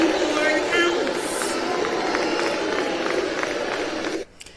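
A large crowd cheers and shouts for a prosecutor in a loud, sustained roar, then it cuts off abruptly near the end.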